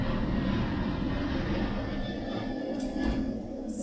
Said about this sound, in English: It's a particularly loud plane.